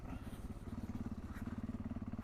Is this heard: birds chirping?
no